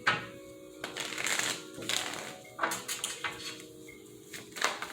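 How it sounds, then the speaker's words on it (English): Tarot cards are shuffled with a crisp riffling and slapping patter in several quick bursts, close and fairly quiet, with no voice over them. "One more shuffle."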